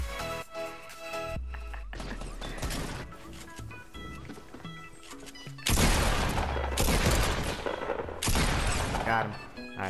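Rapid gunfire bursts from the Fortnite video game crackle loudly over a music track, with sharper, denser volleys in the second half.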